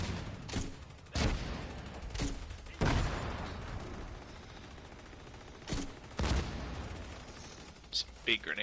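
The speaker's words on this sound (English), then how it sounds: "Some big grenades going on." Gunfire and grenade explosions in a PS4 shooter game: a series of loud, sharp blasts and shots spaced irregularly over steady game noise, with a player talking at points.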